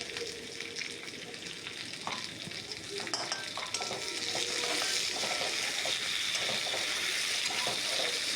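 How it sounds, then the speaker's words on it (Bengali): Halua chanda fish curry with potato and eggplant sizzles in a pan while being stirred, scraping and clinking now and then over a steady frying hiss that grows louder and fuller partway through. "আবার কিছুক্ষণ এভাবেই নাড়াচাড়া করতে থাকবো"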